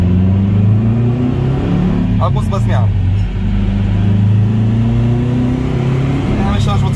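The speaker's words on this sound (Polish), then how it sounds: "żeby było słychać dźwięki tego boksera" A Subaru Forester 2.5 XT turbo boxer engine rumbles and revs steadily at low pitch on a dyno, continuous and close, with a person speaking briefly over it.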